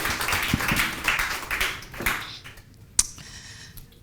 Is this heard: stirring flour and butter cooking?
no